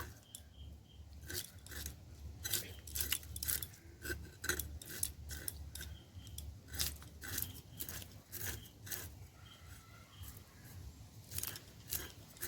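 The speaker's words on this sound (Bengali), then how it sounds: "ইলিশ মাছের আঁশগুলো ভালো করে ছাড়িয়ে নেবো" A knife scrapes the scales off a hilsa fish in quick, sharp strokes, an irregular run of close, crisp rasping clicks over a low, quiet background.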